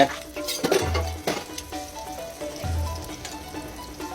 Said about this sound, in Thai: ผัดให้เข้ากัน ผัดให้เข้ากันเลย